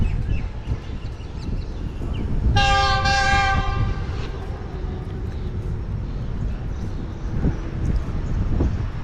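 Express train passing under a bridge at a railway station, its horn blaring in a loud sustained blast over a constant heavy rumble of wheels and rails, which continues after the horn fades.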